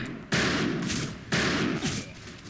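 Gunfire in the western shooter Fistful of Frags, two sharp loud shots about a second apart, each followed by a ringing reverberant tail, close by.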